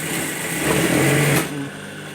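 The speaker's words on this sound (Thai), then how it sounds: "เวลาเขาเย็บผ้าถุงกระโจมอกเขาก็เย็บอย่างนี้เลยนะ" A sewing machine stitches elastic-waist trousers with a close, steady mechanical whir that rises briefly in the middle and then settles to a softer hum.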